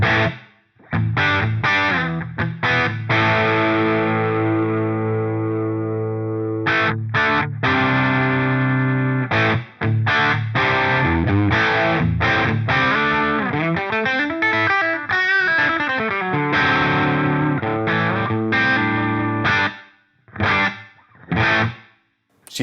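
Electric guitar through an AmpliTube 5 Friedman Pink Taco amp, with a light room-mic ambience added. It plays heavily distorted chugging riffs with stops and sustained chords, stands alone at a moderate level, and ends in choppy, staccato bursts.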